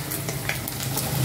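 Cumin, ground coriander and garam masala being stirred as they fry in a pan: a brief, steady sizzle with a low hum, close and moderately loud, with no voices.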